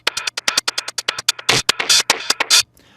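A punchy electronic psytrance drum loop plays alone, with crisp hits in a quick, steady rhythm and some denser bursts toward the end.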